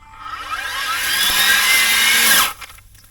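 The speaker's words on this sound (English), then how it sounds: "2 seconds of weed whacking, blade stuck." A battery-powered weed wacker with a metal blade whines at high speed through grass for about two seconds, then abruptly cuts out as the blade jams.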